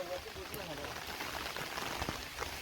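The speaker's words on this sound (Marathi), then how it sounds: "बघा, पाऊस पण आलाय." Rain falls in a Konkan village forest, a steady soft patter of drops on leaves and ground, with a faint voice briefly present in the background.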